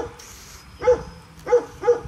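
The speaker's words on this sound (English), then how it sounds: "You know you're a small dog when ants are a threat and you have to bark and stand your ground." A small dog barks at ants, giving three short, close yaps spaced about half a second apart over quiet background, with no talking.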